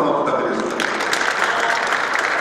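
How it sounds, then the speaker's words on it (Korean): Guests at an alumni association president inauguration ceremony give a big round of applause, loud close clapping with a voice talking over it throughout. "잘 이끌어가시라고 큰 박수 한번"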